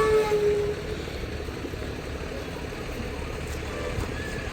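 A Karwar depot rural transport bus bound for Chikkamagaluru, a BS3 vehicle, idles at the Chikkamagaluru central bus stand with a steady low diesel rumble, alone.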